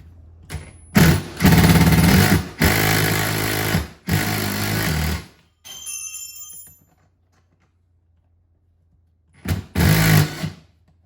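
A power tool works a bolt out of a Minn Kota trolling motor base plate in loud, rattling bursts of a few seconds each, broken by a quiet pause before a final short burst.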